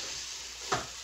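A stir fry of vegetables with seed and soy sauce hisses steadily as water steam-fries it in the pan, with a short louder burst of sizzle partway through.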